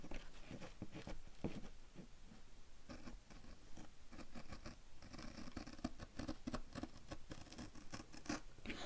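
Scissors cut through envelope paper in quick, close snips and small scratchy rustles, a quiet irregular patter of blade strokes running throughout with no talking.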